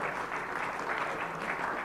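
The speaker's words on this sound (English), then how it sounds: "So one final round of applause for" A final round of applause from the audience at a cancer awareness program, a steady, moderately loud wash of many people clapping without pause.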